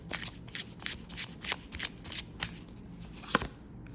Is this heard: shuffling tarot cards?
yes